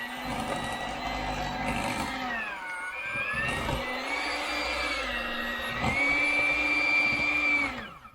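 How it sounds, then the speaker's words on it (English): An electric mixer beats cream cheese, vanilla and flour into a New York style cheesecake batter: a steady, close motor whine that dips and rises in pitch as it works the thick mix, running alone for about eight seconds. "I'm just going to use the actual mixer itself"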